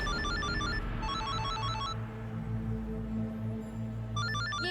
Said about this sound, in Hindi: फोन की आवाज कहाँ से आ रही?